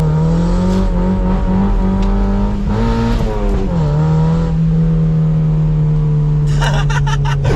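A Mazda MX-5 driven with the roof down: a loud, steady engine drone with wind roar filling everything, pitch rising briefly then settling, close and continuous.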